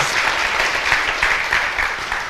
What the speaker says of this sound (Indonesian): Tepuk tangan lu wanita.